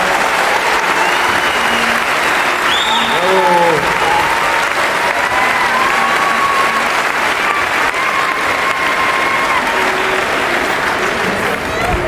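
Audience at the Philharmonie de Paris applauding after an orchestra concert, loud sustained clapping throughout with occasional shouts and cheers rising above it and some voices nearby.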